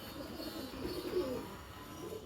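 Pigeons coo softly and continuously at low volume, a steady murmuring drone with a slightly louder swell midway, no voices over it.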